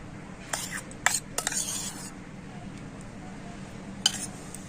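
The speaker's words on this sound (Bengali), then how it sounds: "আর এখন আমি সমস্ত উপকরণগুলো খুব ভালো করে মিশিয়ে নেব" A spoon mixes semolina batter with sugar and sour yogurt in a bowl, giving a few brief scraping clinks early on and one more near the end over a faint steady background hum.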